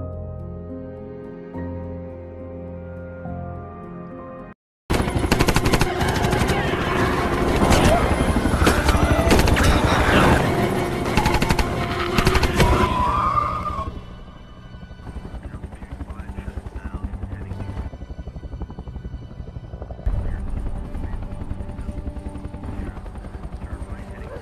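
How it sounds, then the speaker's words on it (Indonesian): Soldiers fire machine guns beside a helicopter in a zombie film: a dense, loud barrage of rapid shots over heavy rotor noise, then the helicopter's steady droning whir carries on alone as the shooting stops. "sementara itu tentara sambil menembaki para zombie yang mengejar Gary."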